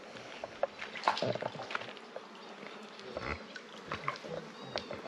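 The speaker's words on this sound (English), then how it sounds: "Lots of bees." Bees buzzing around a slightly green, stagnant swimming hole, with scattered wavering hums passing close and fading amid faint outdoor background noise.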